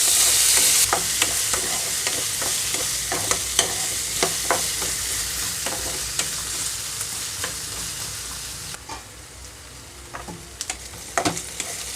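Okra pieces fry in oil in a pan for a chutney, with a steady close sizzle and irregular sharp clicks of a spatula stirring and scraping throughout. No voices.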